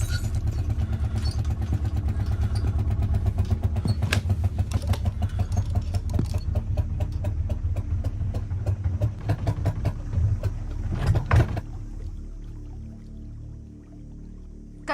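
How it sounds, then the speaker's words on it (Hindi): Boat engine in the Sundarbans mangrove creeks running steadily with a loud, rhythmic low chug and clatter, then cutting out abruptly around the eleventh second as it breaks down, leaving a quieter hum. "इंजन खराब हो गया।"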